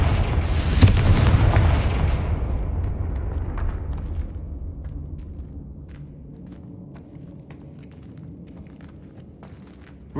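Confringo fire spell exploding in the Hogwarts Legacy video game: one loud, booming blast with a bright crack that rolls off into a long, fading rumble, followed by faint scattered crackles.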